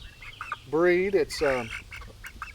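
A Delaware hen clucks and croaks loudly at close range in a backyard flock, two drawn-out calls followed by shorter clucks, with a person talking over them.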